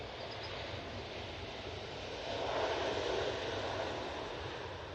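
A Virgin airliner touches down at Manchester Airport, a faint, distant engine rumble that rises briefly in the middle and then settles back to a low, steady roar.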